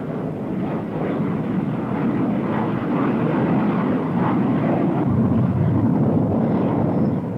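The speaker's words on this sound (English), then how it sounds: "During the launch of the attack carrier's mix of fighters and bombers" Loud, continuous jet roar as a mix of fighter and bomber aircraft launch from the deck of an attack aircraft carrier, a steady broadband rumble with no talk.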